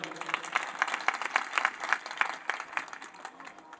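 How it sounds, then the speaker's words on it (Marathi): A crowd applauds at a Sant Dnyaneshwar samadhi ceremony in Alandi, honouring Kailas Maharaj. Dense, rhythmic hand claps come through at moderate volume, steady and unbroken throughout. "जोरदार टाळ्या होऊ द्या."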